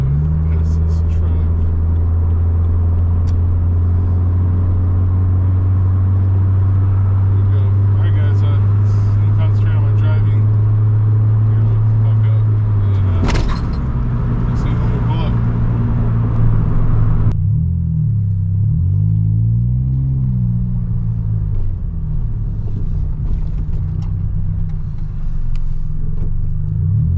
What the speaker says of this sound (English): I'm gonna pass this truck.